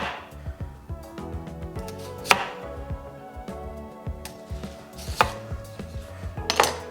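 A knife slices washed potatoes into medium-thick rounds on a cutting board, making brisk rhythmic cuts with a few louder knocks as it strikes the board.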